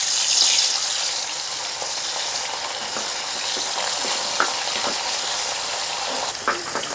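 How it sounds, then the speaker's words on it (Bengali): Puti fish coated in salt and turmeric fry in oil with a loud, dense, continuous sizzle and crackle up close, and occasional sharper pops and spatters break through. "এখন মাছগুলোকে ভেজে নেব।"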